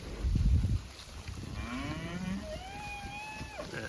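A cow in a winter pasture gives a drawn-out moo that rises and then falls, close and clear, after a brief low rumble of handling noise and with no talk.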